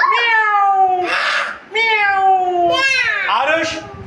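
A young child at a preschool imitates a cat, giving a series of drawn-out, wavering meows one after another, loud and close, with a slightly strained, yowling quality.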